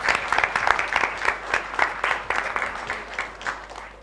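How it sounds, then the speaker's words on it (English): An audience at a Neuro Quest 2023 quiz event applauds a team, dense clapping holding steady for about four seconds before tapering slightly toward the end, with no voices over it. "Please give them a big round of applause."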